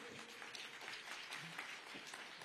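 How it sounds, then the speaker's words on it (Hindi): Faint, distant applause from an audience for a Border Security Force band at a ceremonial event, brief and low in level with a hollow, roomy tone. "एक बार जोरदार तालियां इस बैंड के लिए।"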